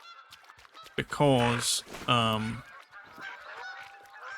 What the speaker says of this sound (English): see, there's Canadian geese here too